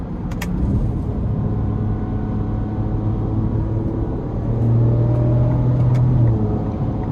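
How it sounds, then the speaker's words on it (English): A Ford Ranger Raptor pickup with a twin-turbo V6 accelerates hard, its engine note a steady loud roar heard from inside the cab, rising in pitch and strength toward the end, with no one talking. "And just the twin turbo V6 here is such a beast."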